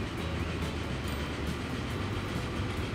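A train in a train simulator video game runs down into a mainline platform, a continuous close rolling rumble with a faint rhythmic rail clatter and no voices.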